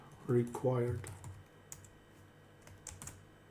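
Typing on a computer keyboard while editing an SSH config on CentOS 8 gives scattered, close key clicks, some in quick pairs, after a brief stretch of speech.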